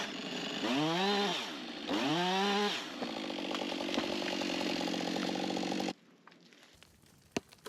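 A chainsaw cuts through a standing tree for firewood, loud and close, with two rising revving surges before settling into a steady high-pitched cutting drone for several seconds, then cutting out abruptly to quiet outdoor ambience with faint clicks.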